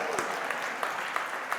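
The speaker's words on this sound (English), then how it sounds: "Go on then, if you want to clap properly." Audience applause at a community locality convention: a short burst of dense, steady clapping from a roomful of people, with a few sharper individual claps standing out.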